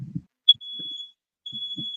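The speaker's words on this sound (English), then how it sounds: "That's your smoke alarm." A high-pitched smoke alarm beep, first a short chirp and then long sustained tones, with low thumps and muffled sounds underneath.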